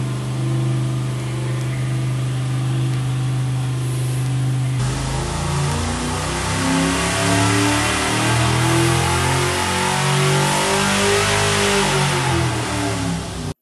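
A test engine fitted with a non-gas-ported piston ring and a gas-ported piston idles and then revs up, holding a loud, rising, sustained engine tone with shifting pitch for several seconds and no talk.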